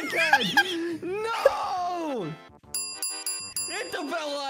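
Bell-icon ding sound effect chiming as a bright, sustained multi-tone ring in the middle of the clip, set between stretches of animated, high-pitched talking and giggling.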